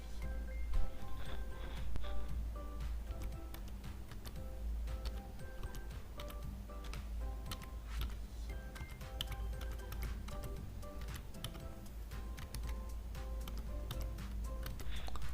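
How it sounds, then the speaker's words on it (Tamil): Steady run of key clicks from someone typing a command on a laptop or computer keyboard, close and fairly quiet over a low constant hum, with a few louder taps near the start. "டைப் பண்ணியாச்சு, என்டர் கொடுக்குறேன்."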